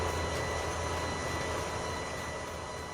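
A big planter working in Farming Simulator 19 gives off a steady, broad roaring whoosh with a low rumble underneath, like an airplane taking off, continuous and moderately loud with no voices.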